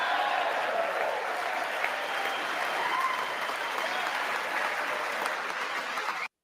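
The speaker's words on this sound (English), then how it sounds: "Those are all Republicans clapping." Sustained applause from a large crowd of Republican lawmakers filling a legislative chamber, dense and steady for about six seconds before cutting off abruptly.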